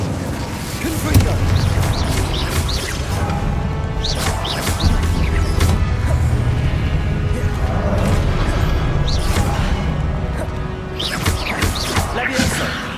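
Confringo blasting spell cast repeatedly in the Hogwarts Legacy video game, with loud booming bursts and crashes over dense game music and effects, the blasts recurring every few seconds throughout.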